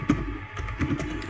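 Keystrokes on a computer keyboard as a command is entered at a command line, a few soft, closely spaced taps heard close by with no talking.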